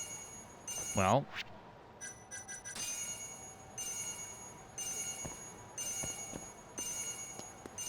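A repeating electronic alarm tone sounds in bursts in a video game, pulsing on and off at a steady rhythm, with a brief voice near the start.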